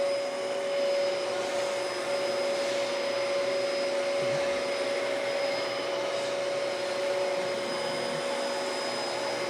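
A thrifted vacuum cleaner running on low pile carpet, a loud, steady, close motor roar with a constant high whine throughout.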